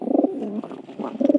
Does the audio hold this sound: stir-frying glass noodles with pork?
no